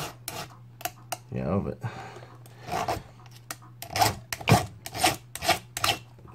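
Chainsaw chain rakers being filed with a hand file, giving repeated short rasping strokes in an irregular rhythm, close and moderately loud, with someone talking briefly in between.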